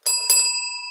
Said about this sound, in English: I brought my bells